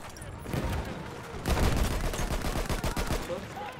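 Rapid bursts of gunfire from an experimental weapon in the World War I shooter Battlefield 1, dense and continuous, with a louder volley midway, with faint voices mixed in.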